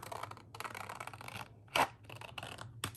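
Scissors cut through a photo printout at a crafting desk, a run of soft rasping snips over about three seconds, with one louder, sharper crunch near the middle, close and fairly quiet with no talking.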